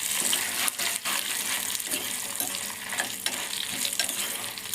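Dried red chillies and coriander seeds frying in a pan with cumin, giving a steady soft sizzle with occasional stirring scrapes, close but fairly quiet.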